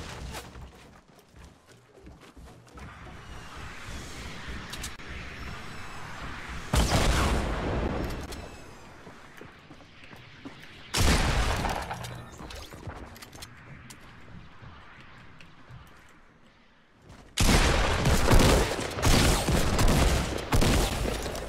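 Grenade launcher explosions in a video game, a few loud booms and bursts of gunfire separated by quieter stretches of background game noise.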